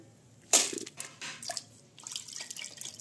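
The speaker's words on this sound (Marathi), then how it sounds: "एका दुरडीमध्ये पाणी निचरण्यासाठी ठेवून देऊ" Soaked rice being lifted out of water and set in a basket to drain, giving a splash followed by scattered drips and trickles, close and fairly quiet with no talking.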